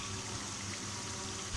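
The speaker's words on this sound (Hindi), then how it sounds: "अब हम इसमें थोड़ा सा पानी डालेंगे" Water poured into a cooking pot of fried potatoes and softened tomatoes, a continuous close, bubbling gush heard alone throughout.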